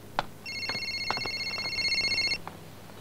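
A mobile phone rings in a Telugu film scene: one electronic tone burst of about two seconds, clear and near, framed by a few sharp clicks.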